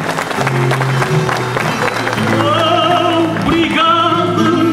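Audience applause at a Portuguese cantoria tribute event, a steady wash of clapping mixed with music and voices.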